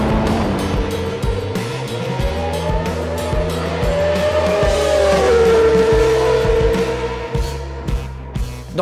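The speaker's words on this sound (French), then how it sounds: "La Williams est bien plus véloce, surtout en traction, mais la piste d'Imola est étroite et Ayrton sait occuper l'espace." A 1993 Formula 1 race at Imola with Williams and McLaren cars: loud, close engine roar that rises and falls through gear changes, with passing cars, continuous and unbroken by talk.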